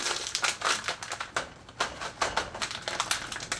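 Close, continuous crinkling and crunching of a plastic bag, coming in irregular bursts as it is squeezed and balled up.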